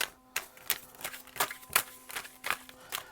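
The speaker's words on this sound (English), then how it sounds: "I'm just shuffling." Crisp, repeated riffling bursts of a deck of tarot cards being shuffled, about nine quick flutters in a steady rhythm, close up with no talking.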